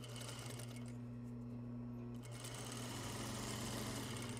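A sewing machine stitches two layers of fabric in a basic apparel seam, a steady close mechanical hum with a low motor drone running continuously throughout.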